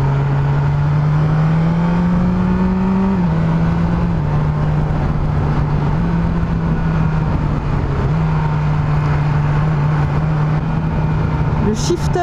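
A 2022 BMW S 1000 R motorcycle engine roars steadily under load, with quick dips and jumps in pitch as the quickshifter clicks through gears, loud and close, drowned in wind rush.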